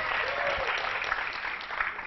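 An audience at a tech conference talk claps briefly and steadily, a moderately loud, even patter of many hands.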